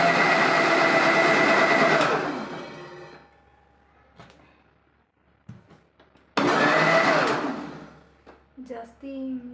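A kitchen mixer grinder churning cream with water into butter, running in two loud whirring bursts of a few seconds each with a quieter pause between, and a person talks briefly near the end.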